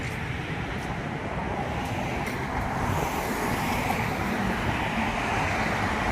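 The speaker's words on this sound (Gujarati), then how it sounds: "ખાસ તો રસ્તાનો ટ્રાફિક આજ જોવાનો છે." Continuous roar of road traffic, vehicles rumbling past nearby at a steady, fairly loud level with no talking.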